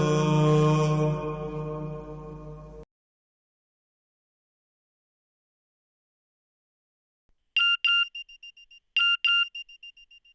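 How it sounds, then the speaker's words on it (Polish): A mobile phone sounds its SMS text message notification: after a loud sustained tone fades to silence, two quick bright beeping bursts ring out clearly, each a short cluster of electronic chirps. "Dostałeś SMS-a."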